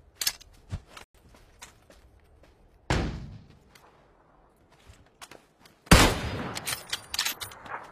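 Gunfire in a video game, a few sharp, close shots separated by quiet stretches, ending in a louder burst with clattering impacts.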